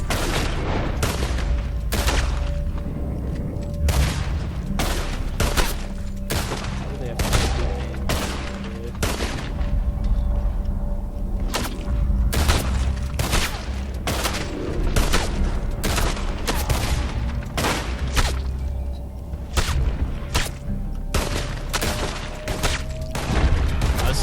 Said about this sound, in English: So that's how many shots it takes for them to kill me.